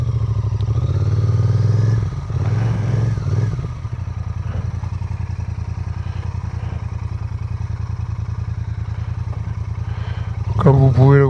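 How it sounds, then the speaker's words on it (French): A Royal Enfield Interceptor 650 motorcycle engine idles with a steady low throb, briefly rising and falling as it makes a three-point turn, then revving up near the end. "On va tester la facilité de manœuvre de la moto."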